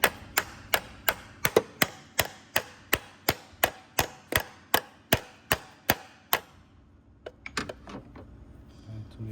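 A stuck cam solenoid on a Lexus LS460 takes about fifteen steady, evenly spaced metallic hammer blows. A short pause follows, then a few quieter, irregular knocks and clatters.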